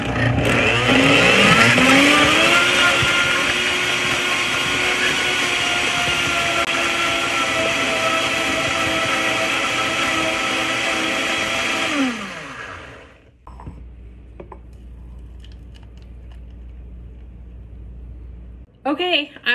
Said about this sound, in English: it's time to blend up this organic watermelon for Fido